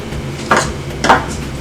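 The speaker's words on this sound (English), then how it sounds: "You can also use knife to cut off the excess" A knife trims excess dough for Nigerian egg rolls, two short clinking knocks against a board or dish in a quiet kitchen.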